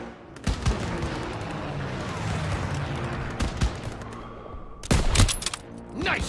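Intense battlefield gunfire in Call of Duty WWII, with rapid rifle and machine-gun shots cracking over a dense rumbling din, punctuated by sharp nearby bursts and a heavier volley near the end.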